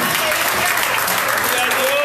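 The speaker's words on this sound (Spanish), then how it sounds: "Dale un fuerte aplauso al Señor." Church congregation applauding steadily, dense continuous clapping filling the whole moment with a preacher's voice over it.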